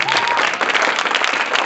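A classroom of students bursts into steady, dense applause for a child, loud and continuous throughout with a faint murmur of voices underneath.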